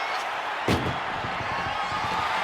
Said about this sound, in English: Powerbomb right into the ambulance.